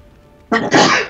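One loud, close sneeze bursts out after a brief quiet pause, with a short catch in the middle.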